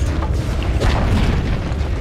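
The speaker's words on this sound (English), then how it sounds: "Dire's top tower has fallen" A tower collapsing in the video game Dota 2, a loud booming crash with rumbling debris and bursts that fill the moment at close range, continuous and dense with no voices.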